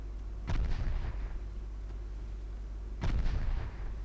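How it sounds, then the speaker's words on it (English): Five-inch naval guns fire in Ultimate Admiral Dreadnoughts, two heavy booming salvos a few seconds apart, each a loud blast with a rumbling tail over a constant low engine drone. "the 5-inch guns are joining in"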